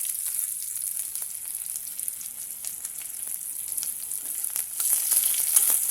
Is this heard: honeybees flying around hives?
no